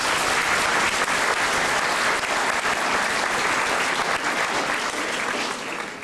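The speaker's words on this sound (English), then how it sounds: "if you can give a round of applause for our next guest" Loud, dense applause from an audience welcoming the next guest, a retired police officer and liver transplant recipient, at a Kristopher's Wish event in Toronto. The clapping holds steady for six seconds.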